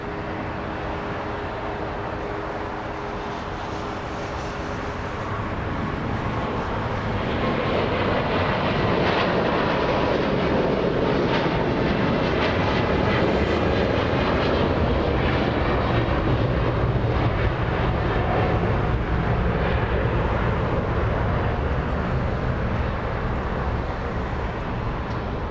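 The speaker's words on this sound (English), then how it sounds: "Let's go for the departure. We have a 777 getting a move on." A Boeing 777 jet departing LAX, its engine roar swelling from a distant rumble into a loud, sustained broadband thrust noise that holds steady for many seconds, with no voices.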